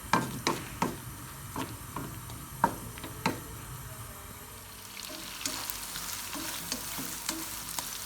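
Chicken chunks sizzle in hot oil in a pan as a utensil stirs them, sharp scraping clicks coming in quick succession over a steady close frying hiss.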